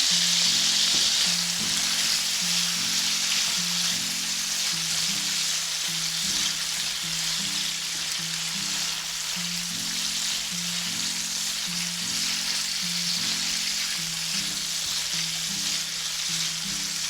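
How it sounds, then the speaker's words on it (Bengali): Lightly salted shrimp frying in a pan for fried rice, a loud continuous sizzle and hiss of oil heard up close, with a low steady hum underneath and no talking. "চিংড়ি মাছ বেশিক্ষণ ভাজা লাগবে না এটা কিছুক্ষণ ভাজলেই খাওয়ার উপযোগী হয়ে যায়"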